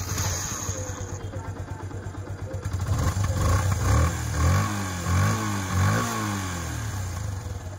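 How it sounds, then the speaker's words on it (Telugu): A 2014 Yamaha FZ S 150cc BS3 motorcycle engine runs close up, idling with a steady low throb, then revving up and down in several rising and falling pulls. "ఇంజిన్ బీటింగ్ అని ఎగ్జాక్ట్గా ఉంది"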